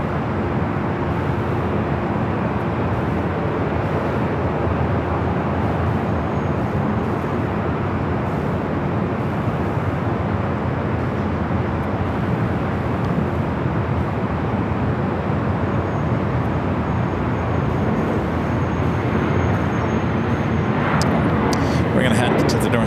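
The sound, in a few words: Virgin Atlantic airliner taking off from LAX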